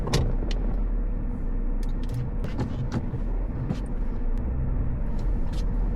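A Lexus IS250 driving after being brought back to running condition, its steady low road rumble and engine drone continuous and close, with scattered faint clicks and rattles from inside the cabin.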